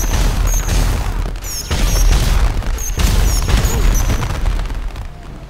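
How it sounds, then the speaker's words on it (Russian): Continuous loud booming and crackling bursts of fireworks launching and exploding in GTA 5, with whistling pops overhead. "Можно запустить фейерверк."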